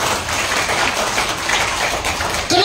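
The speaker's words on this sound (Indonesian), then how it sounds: "Tepuk tangan dulu buat Tuhan itu." A church congregation applauds together at a worship service for company employees, a dense, steady wash of clapping filling the space throughout, with a brief voice entering right at the end.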